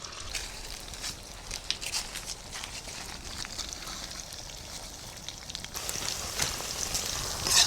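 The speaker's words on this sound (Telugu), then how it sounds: "చికెన్ 20 నిమిషాలు నానబెట్టాం కదండి, అది ఇప్పుడు ఆయిల్లో వేపుకోవాలి" Marinated chicken frying in hot oil in an outdoor village kitchen, a steady soft crackle and sizzle like light rain, fairly quiet and continuous with occasional sharper pops.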